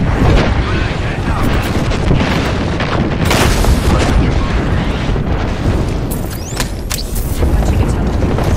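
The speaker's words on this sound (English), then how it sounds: "Heads up, we've got an airstrike coming in." Repeated heavy airstrike explosions rumble and boom in Apex Legends, a dense, loud barrage of blasts rolling continuously with sharper bursts and crackles layered on top.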